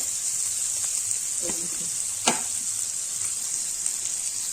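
Curry leaves, coriander and a pinch of asafoetida hit hot oil for a corn dish, giving a steady close sizzle with a sharp crackling burst midway.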